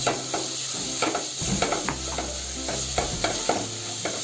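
Malvani masala spice sizzling in a hot pan while being stirred: a steady close frying hiss broken by regular scraping stir strokes, with no talking.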